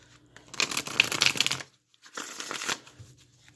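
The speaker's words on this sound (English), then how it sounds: "I'm going to just shuffle" Tarot cards shuffled by hand in two bursts of crisp riffling and rustling, separated by a short pause, close and moderately loud with no talking.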